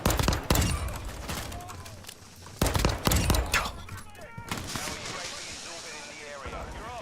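Rapid video game gunfire in bursts of sharp cracks, loud and close, with a short pause near the two-second mark before firing resumes and then trails off into echoing noise, mixed with excited talk.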